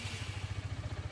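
A Honda CBR 125R motorcycle engine runs after starting, a fast, even low thumping pulse repeating throughout, moderately close and fairly quiet.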